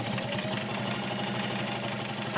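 A vintage heavy-duty Kenmore Model 33 sewing machine with a size 16 needle stitching through four layers of leather, a steady, continuous motor whir and rapid needle chatter running evenly throughout at close range.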